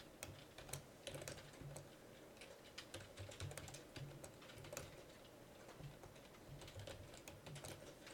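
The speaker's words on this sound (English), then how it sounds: "Alright, so type in some colors." Quiet, irregular clicking of keys on a computer keyboard as words are typed in short bursts, close and fairly soft, with no talking.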